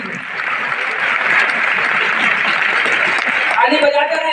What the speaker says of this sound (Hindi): जोरदार ताली भैया के लिए।